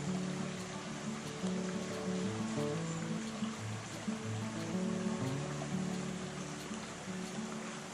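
A creek flows across a beach on the Northern California coast near Westport, Mendocino County, a soft, steady wash of water with a low murmur of surf underneath, fairly quiet and unbroken.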